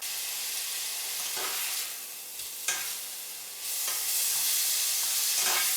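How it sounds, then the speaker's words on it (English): Pork browns in a hot pan with loud, steady sizzling and hissing, broken by a few stirring scrapes and clicks and no voices. "So now we're just going to brown off the pork."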